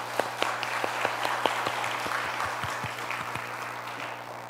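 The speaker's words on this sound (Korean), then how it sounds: "영광의 박수를 드릴까요?" Applause from a church congregation at an Easter dawn service, a few sharp individual claps standing out near the start within a broad, steady wash of clapping that tapers slightly.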